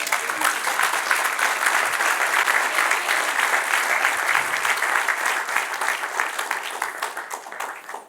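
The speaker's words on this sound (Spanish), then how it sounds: "Dar un aplauso al Señor." A church congregation applauds in a dense, loud, sustained wash of clapping that holds steady and then gradually fades out.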